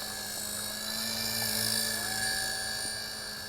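A JJRC JX02 beginner's four-channel RC helicopter flies outdoors over a field, its steady high-pitched rotor and motor whine holding level throughout with a faint low hum beneath, and no talking.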